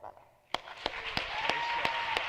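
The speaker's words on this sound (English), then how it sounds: "let's have a round of applause for Isabella" Scattered applause from the audience at a school commencement, starting after a brief quiet and building into a light clatter of claps with a few distinct loud hand slaps standing out.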